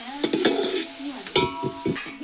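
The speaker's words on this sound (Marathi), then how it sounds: "टॅमॅटो लगेच शिजतंय ना" Tomatoes cooking in a pan with a short sizzle and a few stirring scrapes nearby, brief and fairly loud.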